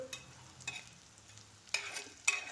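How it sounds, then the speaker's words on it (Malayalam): Soya chunks fry with browned onions in a pan, stirred in a few distinct scraping strokes over a quiet, low sizzle. "ഈ എടുത്തു വച്ചിരിക്കുന്ന ചോയ ചമ്മസ് അങ്ങോട്ട് ഇട്ട് കൊടുക്കാം"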